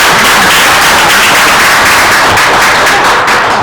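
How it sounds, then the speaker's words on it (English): An audience at a city council meeting in Camden applauds loudly and steadily, a dense, close wash of clapping that fills the whole moment. "just want to applaud them on tonight"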